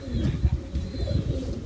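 A pigeon coos in soft low throaty pulses, close and fairly quiet, repeating over a short stretch with faint background noise.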